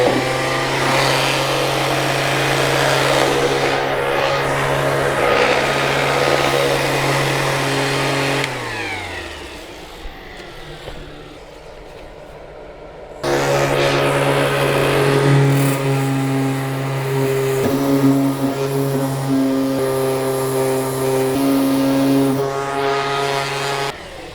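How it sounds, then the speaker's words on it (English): An electric sander runs with a loud, steady motor whine close by, winds down and goes quiet for a few seconds, then starts up again and keeps droning. "Let's use the sander."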